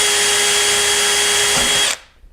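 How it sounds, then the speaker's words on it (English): A power drill bores a rivet hole through a composite side skirt on a C7 Corvette rocker panel, a loud steady high-pitched whine for about two seconds that stops abruptly. "here is the first hole we're going to drill out in the rocker panel"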